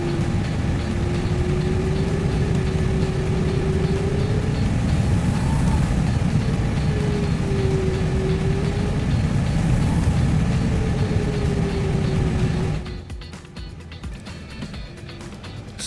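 Simulated LVFR A320ceo engines in MSFS 2024 taxiing: a constant low turbine rumble with a whine that dips and swells in repeated waves, then drops quieter near the end.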